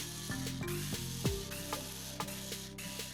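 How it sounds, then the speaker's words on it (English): An electric screwdriver backs screws out of a Gardena PowerMax lawn mower during disassembly, giving a close, quiet ratcheting whir in short repeated bursts with small clicks between them. "With an electric screwdriver at hand, we make short work of the disassembly"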